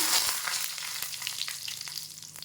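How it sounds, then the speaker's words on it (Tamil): Dense, continuous crackling and popping of mustard seeds spluttering in hot oil, steady and close, with no voices. "இப்போ கடுகு ஆட் பண்ணிக்கிறேன். கடுகு பொரிஞ்சதும் 2 வரமிளகாய் போட்டுக்கிறேங்க."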